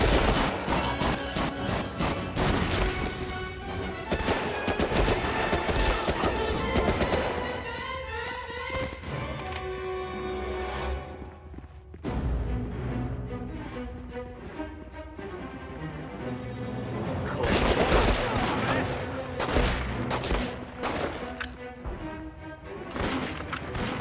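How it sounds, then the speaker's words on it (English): Machine gun fire in Medal of Honor: Rising Sun on hard difficulty: loud, rapid automatic bursts crackle densely, ease briefly near the middle, then resume heavily alongside other battle noise. "those machine gunners are fucking deadly"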